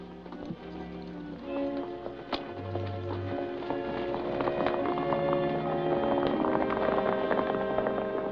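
Horses' hooves clip-clopping in a steady trotting rhythm, fairly close, with a low creak and rumble underneath.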